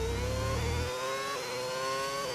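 An engine sound mod meant to mimic a V8 plays on a car in the F1 25 racing video game, a whining tone rising in pitch through repeated gear steps, with a low rumble that cuts out partway.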